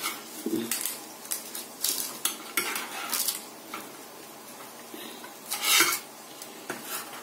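A knife cutting and scraping through a Galician pie on a plate, with a series of short scratchy strokes and light clinks of cutlery, close and fairly quiet.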